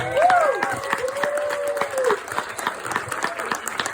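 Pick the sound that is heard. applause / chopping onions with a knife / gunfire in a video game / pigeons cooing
applause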